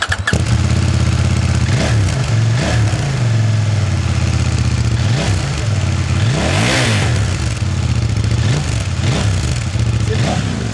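CF Moto 800 MT with an Arrow exhaust revving hard near by, a steady loud engine drone broken by repeated sharp throttle blips that rise and fall in pitch, with no talking.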